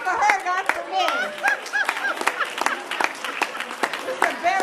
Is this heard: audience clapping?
yes